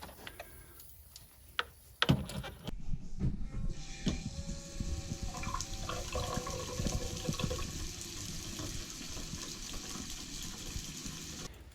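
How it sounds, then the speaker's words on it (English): Compressed air from a compressor hose blows water out of a plumbing line on a Momentum 376THS RV being winterized, a steady rushing, spluttering hiss that begins abruptly after a couple of faint clicks and continues to the end. "So I'm going to reconnect the air hose and blow out that line."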